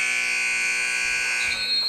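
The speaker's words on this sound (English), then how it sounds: "The buzzer will sound," End-of-half buzzer at a men's college basketball game in a gym in Cupertino, a steady loud electronic tone holding for about two seconds with faint crowd noise beneath.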